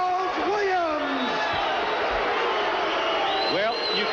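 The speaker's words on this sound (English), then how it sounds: "you can hear the crowd reaction" A boxing arena crowd roars and cheers after the decision in a USBA light heavyweight title fight, a dense, sustained wall of voices with whoops and shouts, loud and continuous throughout.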